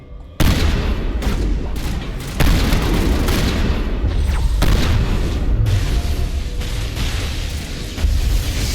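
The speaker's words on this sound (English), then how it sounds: "Open fire!" A firefight in the video game Mass Effect at a research facility: loud, close bursts of gunfire and booming impacts layered over a dense rumbling barrage, continuous and heavy, with no talking.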